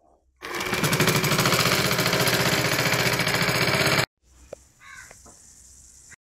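Sewing machine stitching lace onto a saree border runs in a loud, close, fast rattling burst of about three and a half seconds, then stops abruptly, leaving faint handling clicks.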